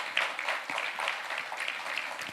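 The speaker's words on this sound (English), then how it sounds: "Please give them a round of applause," Audience applause at a fintech challenge semi-final event, a steady wash of many hands clapping at moderate volume throughout, with no voices over it.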